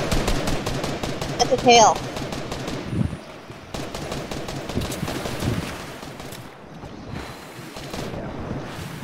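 Rapid bursts of automatic gunfire rattle in the video game Fortnite, with dense strings of shots that rise and fall over several seconds while players talk over them.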